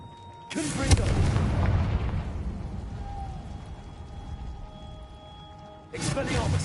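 A Confringo fire spell in Hogwarts Legacy, a heavy booming blast that erupts, rumbles and fades over several seconds, then a second blast bursts in at the end; a voice speaks around them.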